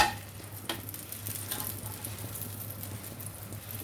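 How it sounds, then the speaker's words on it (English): A veg quesadilla laid on a heated pan sets off a soft sizzle that starts with a brief clatter and settles into a faint, steady hiss; no one talks. "The pan is heated now, so let's place this quesadilla which we had assembled very carefully onto this pan"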